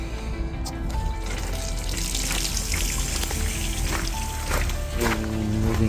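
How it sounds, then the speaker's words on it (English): Water runs steadily from a hose used to flush a Mercury 150 hp outboard motor, a continuous close splashing and trickling rush with small gurgles shifting through it. "And turn the water on."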